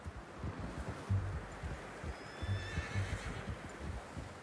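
A horse whinnies softly in the video game Red Dead Redemption 2 amid faint hoof clip-clops and rustling wind, all fairly quiet and somewhat distant.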